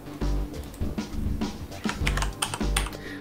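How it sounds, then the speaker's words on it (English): Rapid, uneven clicking from keys being typed on a computer keyboard, close and clear, with brief pauses between bursts of keystrokes. "I can keep typing to get where I want"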